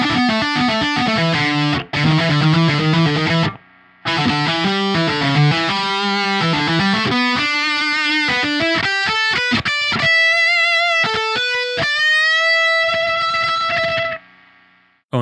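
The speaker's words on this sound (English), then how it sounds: "you can even do metal on an Archtop if you want." Shreddage 3 Archtop virtual guitar plays a heavy metal line, dense distorted palm-muted chugs giving way to sustained high bent notes, loud and up front before cutting off abruptly near the end.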